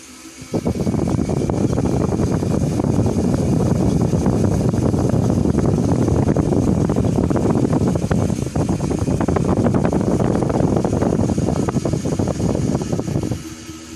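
An electric motor mounted on a shared axle drives a honey extractor by a spring-tensioned belt pulley, giving a loud, steady mechanical whir and rattle that runs continuously for nearly the whole stretch, starting and stopping abruptly.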